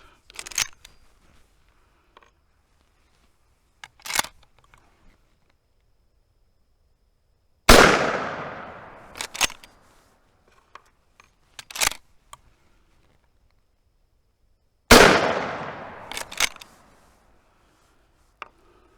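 Two loud .357 Magnum carbine shots ring out several seconds apart outdoors, each a sharp crack with a long decaying echo, among quieter mechanical clicks and clacks from handling the rifle.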